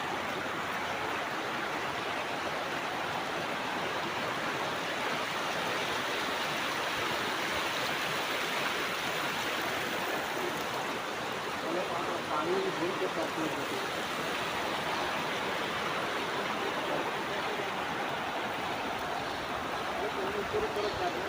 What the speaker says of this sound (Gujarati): આપણે આવી ગયા નદીમાં પાણી જોવા